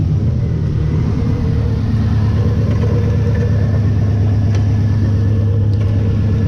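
A 1972 VW Super Beetle engine runs with a slight misfire, a steady low rumbling idle close by with a faint uneven shake and no voices over it.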